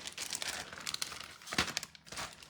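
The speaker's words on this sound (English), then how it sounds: "let's put this foil away now that I've cut that up" Aluminium foil crinkles and crumples in quick, soft bursts as it is folded and put away, quiet and close with a sharper crunch partway through.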